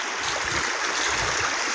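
Floodwater after heavy rain rushes in a steady, dense roar, close and loud, with no pauses or talk over the short stretch.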